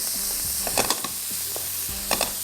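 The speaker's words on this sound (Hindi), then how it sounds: "ये आ गया इसमें प्याज और इसको करेंगे फ्राई।" Onions fry over high heat in a pan, giving a steady close sizzle broken by a few brief stirring scrapes, with no talking.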